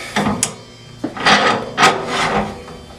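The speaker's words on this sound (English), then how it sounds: "Start sanding." Abrasive sanding of black and white ebony spinning on a wood lathe, steady close rubbing and rasping with swelling passes around the middle and end, no talk.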